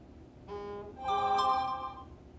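A short two-part electronic chime sounds once, bright tonal notes rising in pitch, clear against quiet background.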